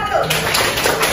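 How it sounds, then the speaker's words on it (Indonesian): A class applauding a group of students, a short burst of clapping from many hands in a classroom, loud and close. "Tepuk tangan untuk kelompok"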